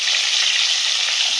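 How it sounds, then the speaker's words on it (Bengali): Eggs fry in hot oil in a wok, giving a close, steady, bright sizzle with no voices. "ডিমগুলো ভেজে নেব।"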